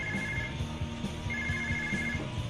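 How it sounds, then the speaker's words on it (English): A telephone rings indoors in two electronic trilling bursts separated by a pause, moderately loud over a low background murmur. "That's your phone."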